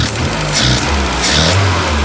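A VW MK2 Scirocco engine, just brought back to running, drops from revs toward a rough idle with a slight bog, a low mid-pitched motor hum wavering up and down, heard close by.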